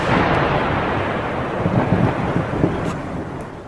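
Thunderstorm in heavy rain, with a dense, continuous broadband roar of pounding rain and deep rumbling thunder swelling throughout, loud and close, with no voices.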